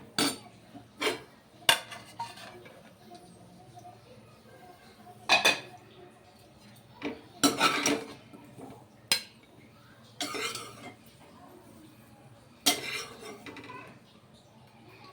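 Cooked okra transferred from a pot into another vessel, with scattered clinks and scrapes of a utensil against metal pots, separated by quiet gaps.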